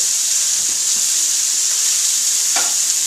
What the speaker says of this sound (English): We want to brown the steaks on both sides before we put them in our pan here